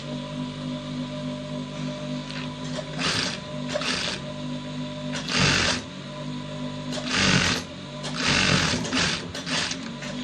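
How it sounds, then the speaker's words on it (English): A sewing machine stitches a garment placket with a piped neckline in several close, buzzing bursts separated by short pauses, with no voices over it. "Then you sew at the tip as shown."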